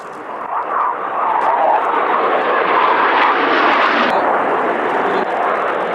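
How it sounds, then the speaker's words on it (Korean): A fixed-wing training aircraft flies low over a city, its engine a loud, steady, close roar that holds throughout with no voices. "하루에도 많게는 수백여 차례 뜨고 내리는 비행기."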